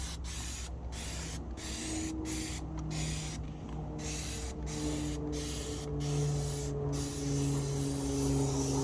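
Black Magic tire cleaner sprayed onto car tires in repeated short trigger bursts, about nine close hissing sprays at an irregular rhythm over a steady background hum, no talking.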